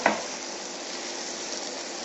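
Tofu stir-fries in a hot pan with aromatic onion for a crab noodle soup, a steady loud sizzle after a brief clatter at the start.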